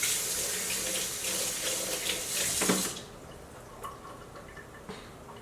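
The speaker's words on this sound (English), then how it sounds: "What I'm going to do with the hemp seed milk is I'm actually going to drain it" Homemade hemp seed milk draining from a jar, a steady trickling pour for about three seconds that stops abruptly, followed by a few faint drips and clinks.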